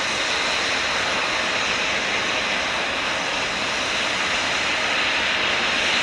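A Eurofighter Typhoon jet takes off on a hot afternoon, heard as a steady, loud, broadband roar that holds without break. No voices can be heard.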